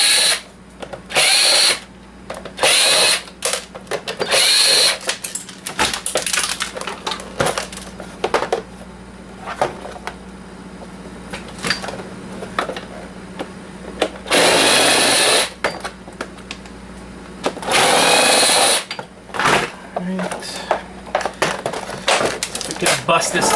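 A power drill backs screws out while electronics are being scrapped on a workbench, with repeated short bursts of high whirring separated by pauses, clicks and handling noises, loud and close throughout.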